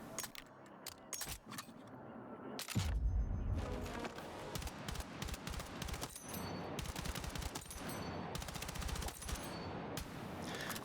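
M4 rifle gunfire in the Battlefield 6 video game, loud sharp shots fired in short tapped bursts and sustained strings, with mechanical clatter between volleys and no talk.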